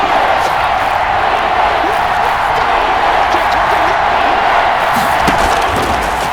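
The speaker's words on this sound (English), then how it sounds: "the crowd getting into it as we come up on a big 3rd down" A stadium crowd roaring in the Madden 21 football video game as the Bills face the Chiefs on a big third down, a loud, sustained wash of cheering with a commentator's voice faintly underneath.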